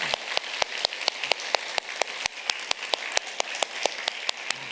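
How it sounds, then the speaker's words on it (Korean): Applause from a church congregation for members just back from a mission trip to Lebanon, heard as a steady run of sharp, evenly spaced claps over a hissy background, fairly close and moderately loud, with no voices. "우리 뜨거운 박수로 이들을 격려합시다"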